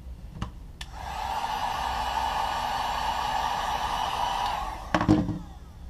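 A heat gun blows steadily while heating a Sole Protector film onto a Yeezy sneaker sole, a continuous close airy roar lasting several seconds, with brief clicks and handling knocks at the start and end.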